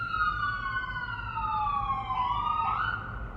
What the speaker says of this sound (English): Pause for sirens